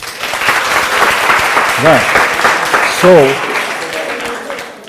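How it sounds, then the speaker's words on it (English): A classroom of students claps for a classmate during a maths lesson, a steady burst of dense applause that fills the clip, with a teacher's voice briefly speaking over it. "Give him a clap, guys."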